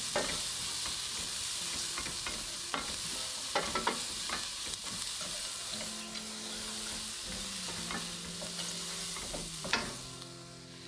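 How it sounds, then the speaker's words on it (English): Finely diced onion sizzles in a hot pan while a utensil scrapes and stirs through it, a steady close frying hiss broken by repeated knocks and scrapes, with no voices. "One medium onion that I've finely diced. Let's give it a good stir."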